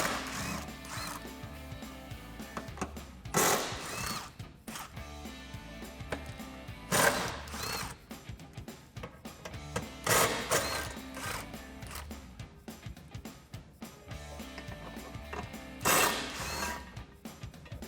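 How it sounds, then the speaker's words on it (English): An impact gun fitted with a 13mm socket removes five brace bolts under a 2016-2023 Camaro SS, in several loud rattling bursts of a few seconds each, spaced apart with clinks and handling noise between them. "So I'll get a 13mm socket on an impact gun to get these off."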